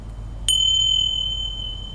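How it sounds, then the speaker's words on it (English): A small pair of bells used in a children's yoga class, struck once for a single bright, clear ding that rings on with a long, steady sustain and fades slowly. "Listen to the sound of the bell."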